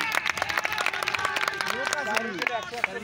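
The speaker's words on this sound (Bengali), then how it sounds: "ব্যাটসম্যানের জন্য করতালি কোথায়? করতালি দেন।" Scattered clapping from spectators at a live cricket final for the batsman, light and uneven under a commentator's continuous excited talk and background crowd murmur.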